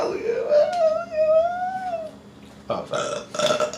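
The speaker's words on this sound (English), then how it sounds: "You're burping more than me." A long, loud, tonal burp from a person eating Carl's Jr fast food, stretching for about two seconds, followed by a burst of close voices or laughter.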